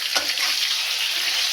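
Spice paste of ground cumin, turmeric, Kashmiri red chilli and green chilli paste hitting hot oil in a pan for katla kalia, a close, steady broadband sizzle that flares briefly at the start and then holds evenly.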